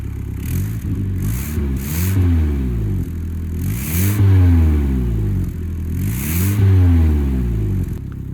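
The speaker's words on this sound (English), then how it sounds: "Just make it sound like it has an exhaust leak." A BMW 335i engine with small holes in its exhaust revs repeatedly, each rise and fall sweeping up and down loud and close, with a rough, leaky edge to the note.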